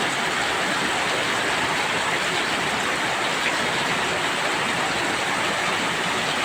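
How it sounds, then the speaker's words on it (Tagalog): Heavy rain pours down in a constant, dense roar with no breaks, loud and close, like water drumming on surfaces all around. "Malakas po talaga ulan ngayon."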